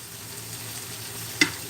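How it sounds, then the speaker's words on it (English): A spoon stirs chicken fajita casserole filling in a pan with a soft, steady scraping and faint sizzle, then one sharp clink near the end. "I'm just going to give this a good mix."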